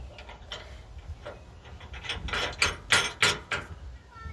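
A ratchet tightening bolts during a receiver hitch install on a 2020 Ram 1500 Classic, with rapid clicking pawl ratchet strokes that grow louder in short bursts toward the end, close by.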